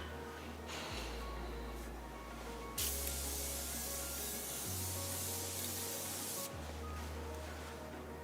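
Cosmetic setting spray misted onto the face during makeup, heard as two separate sustained hissing bursts, soft and close, in an otherwise quiet room.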